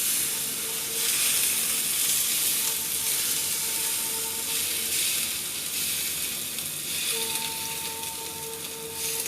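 Lemon juice hits potatoes frying in a pan, setting off a steady, loud sizzle with hissing steam that swells and fades slightly over several seconds, with faint tonal hums underneath.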